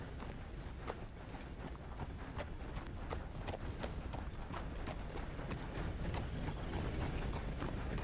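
Horse hooves clip-clopping in Red Dead Redemption 2, a steady walking rhythm of faint hoof strikes over a continuous background ambience.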